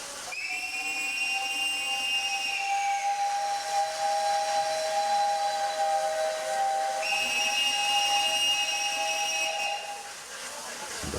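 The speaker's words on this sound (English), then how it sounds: "first steam passenger train to Mombasa for 35 years crawled sedately out of the station." A steam locomotive, Kenya Railways 5918, departing on a passenger train to Mombasa, whistles twice in long, shrill blasts over a constant hiss of escaping steam, fairly near.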